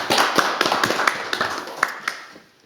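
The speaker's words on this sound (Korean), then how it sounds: "박수를 부탁드리겠습니다" Small audience at a parliamentary policy forum applauding, a thin scattering of individual claps close by, irregular and sharp, thinning out toward the end.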